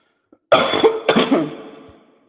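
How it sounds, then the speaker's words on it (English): Two harsh coughs in quick succession, close and loud, the second trailing off into a rough throaty rasp. "I know I need to quit because I'm coughing"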